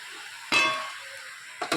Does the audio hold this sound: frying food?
yes